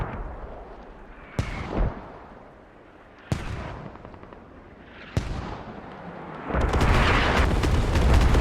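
Artillery shells landing in the military game Squad: three distinct heavy booms a couple of seconds apart, each with a rumbling tail, followed by a louder, sustained blast and roar at the end.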